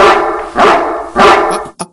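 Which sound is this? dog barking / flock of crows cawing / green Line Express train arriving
dog barking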